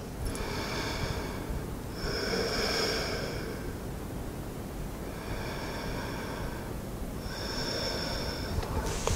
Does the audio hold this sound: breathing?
yes